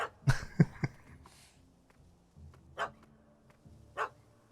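A puppy barks in The Witcher 3 video game: a quick cluster of three sharp barks, then two more isolated barks spaced about a second apart, fairly close over a low ambient hum.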